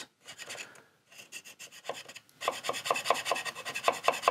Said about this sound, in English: So just a real gentle on the file here, just enough to pull those shavings